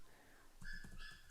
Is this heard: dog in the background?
yes